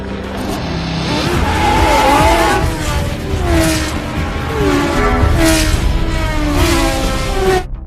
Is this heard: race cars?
yes